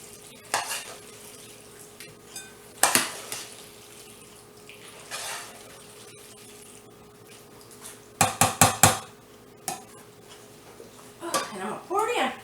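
A spoon stirs a smoked sausage, zucchini and macaroni casserole mixture in a pot, with scattered scraping clinks and bursts of quick knocks against the metal, fairly close, while a person talks.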